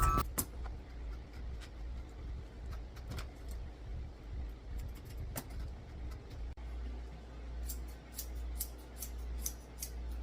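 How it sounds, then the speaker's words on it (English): Thinning shears snip through small tangles on the underside of a dog's tail during grooming, giving sharp, repeated close-up clicks over a steady low hum, denser toward the end. "I'm brushing out her tail, which is in pretty good shape, using my thinning shears because she has a couple little tangles underneath"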